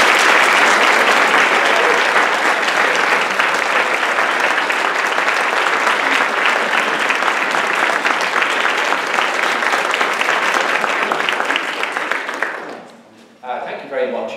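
A lecture-hall audience gives sustained, loud applause for a speaker at an Irish music presentation, holding steady for about twelve seconds before tapering off.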